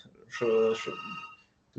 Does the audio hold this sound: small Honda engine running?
no